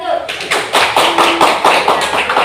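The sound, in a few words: classroom applause for a group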